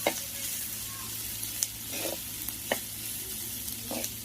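Carrots, beans and peas sautéing in a clay pot for noodles, with a steady frying sizzle broken by occasional knocks and scrapes of a stirring spoon, close and moderately loud, with no speech.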